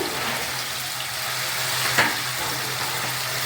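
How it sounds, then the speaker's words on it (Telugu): Raw banana slices with salt, turmeric and chilli fry in hot oil, a steady close sizzle throughout with one brief stir or scrape in the middle. "ఇలా కొంచెం వేయించాలన్నమాట కాసేపు"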